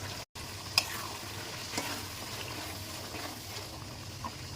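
Small cubes of meat and potato frying together in a pan, a soft steady sizzle with a few light stirring clicks and scrapes, close and fairly quiet.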